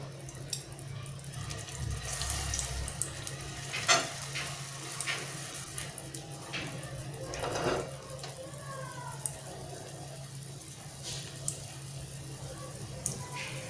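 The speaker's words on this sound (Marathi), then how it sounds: "इथं मी तीन रोडगे टाकले आहेत आणि त्याला हाफ फ्राय करून घेत आहे" Steady sizzling of rodage (dough cakes) half-frying in hot oil in a kadhai, with occasional clinks and stirring noises throughout.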